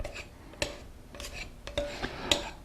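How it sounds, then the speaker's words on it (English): Two knives cut butter into flour with a few sharp metallic clinks and scrapes, spaced irregularly and close by, with soft rubbing between the strikes. "really cutting the butter is taking literally 2 knives and cutting it in like"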